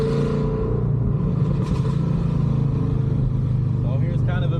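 A deep, burbling Ford Mustang 5.0 V8 exhaust with long tube headers and a catless X pipe rumbles steadily at idle, loud and close, with a low throbbing pulse throughout.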